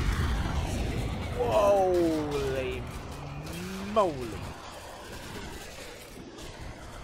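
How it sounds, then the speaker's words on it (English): A large explosion in a World War II strategy game set in 1945 Berlin suburbs bursts out as a short, sharp blast near the middle, amid rising and falling engine-like whines and rumbling battle noise, with someone talking over it. "That was a gigantic explosion."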